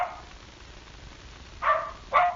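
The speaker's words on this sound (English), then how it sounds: "Can you hear my dogs barking?" Two pet dogs barking somewhere in a home, a couple of short barks heard faintly over a quiet, muffled background.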